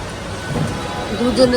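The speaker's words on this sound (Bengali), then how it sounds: "সারা রাত বৃষ্টি হয়েছে এখনো হচ্ছে" Steady rain pours down after a night-long downpour, a continuous soft hiss that swells slightly toward the end, with a faint voice-like tone briefly audible.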